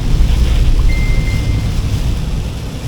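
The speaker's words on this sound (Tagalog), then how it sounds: "medyo lumakas yung ulan mga tolits, oh" Heavy rain drums steadily on a moving vehicle during a road trip toward Manila, a dense, loud hiss over low road rumble, with no voices.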